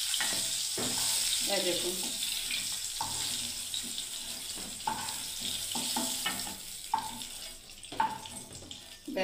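Pointed gourd (potol) frying in oil sizzles steadily with stirring scrapes and clatter, while a voice talks intermittently over the cooking.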